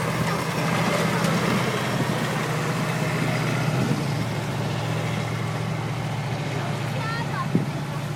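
Six-cylinder two-stroke Rolls-Royce engine of an FV432 armoured vehicle running steadily, a constant low drone close by with someone talking over it throughout.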